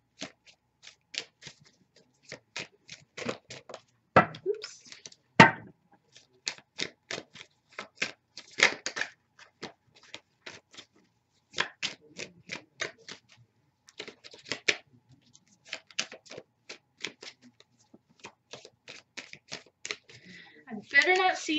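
Tarot cards are shuffled in quick, crisp bursts of riffling and slapping, close and fairly quiet, with pauses between bouts and occasional sharper card snaps.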